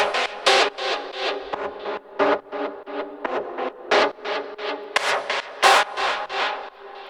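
A gritty, distorted synth lead for raw hypnotic techno pulses in a steady, repeating pattern of short, buzzy stabs, loud and alone throughout.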